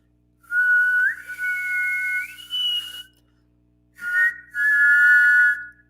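Loud, close mouth whistling in two sustained phrases with gliding, stepping pitches, a short pause between them, and no talking.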